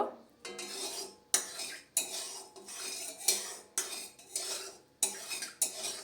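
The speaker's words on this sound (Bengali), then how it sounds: "দেখুন আমি নেড়ে দিচ্ছি তেলটাকে" A utensil stirs hot mustard oil in a wok, sharp metallic scrapes and clinks recurring in rough rhythm about every half second to second, close and fairly quiet, with little sizzle beneath.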